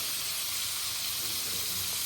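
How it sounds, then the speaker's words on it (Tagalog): Farm-raised pork frying in a home kitchen pan gives an even, close hiss and sizzle that holds steady throughout. "We need to fry this."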